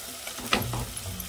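Onion and coconut masala paste roasting in oil for a Malvani chicken curry, a short soft sizzle with a brief stirring scrape near the middle.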